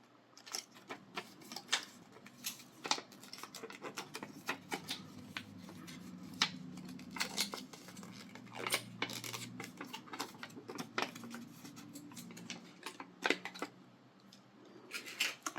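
Scissors snip around a strip of paper for a floating specimen box: quiet, close, irregular crisp cuts and paper rustles in quick bursts, with no talking.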